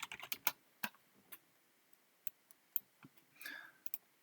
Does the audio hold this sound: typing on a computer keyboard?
yes